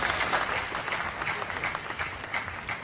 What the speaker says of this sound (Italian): permettetemi di dire e di fare un applauso di solidarietà